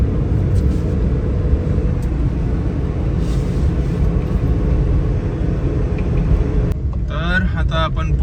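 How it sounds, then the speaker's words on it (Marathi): A car speeds along the open Mumbai–Pune highway from Kharghar toward Panvel, heard as a steady, loud cabin road rumble throughout, with a voice briefly audible near the end. "इथून मस्त गाडी सुसाट निघून जाते"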